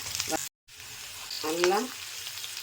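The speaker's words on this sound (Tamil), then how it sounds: "நல்லா வறுத்துக்கணும், இதை வதக்கிக்கணும்." Pirandai (adamant creeper) sautéing in a pan for chutney gives a steady soft sizzle, briefly cut off by a short gap, while a voice speaks over it in bursts.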